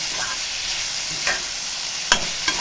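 Vegetables for Schezwan fried rice being stirred and fried in a pan, a soft steady sizzle with a few sharp scraping stirs of the spoon, close and alone.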